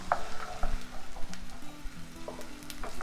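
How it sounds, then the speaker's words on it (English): Frozen peas, carrots and potatoes sizzle in butter in a pot for chicken pot pie, a close, crackling fry with stirring scrapes and uneven bursts of spattering. "we're going to go ahead and add in our peas and carrots"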